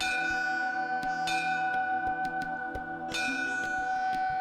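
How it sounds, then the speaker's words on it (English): Small metal temple bells in a Hindu mandir ring with bright sustained tones, struck several times in an irregular rhythm so the strikes overlap and keep resonating, clear and fairly close. "Hindus ring a bell to announce their presence"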